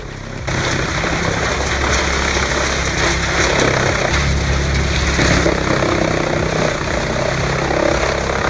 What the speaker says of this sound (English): A 16-inch capacity PTO chipper isn't a toy.